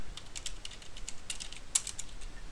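Code being typed on a computer keyboard, a quick run of light, close key clicks with a steady rhythm and one sharper tap near the end, no voices.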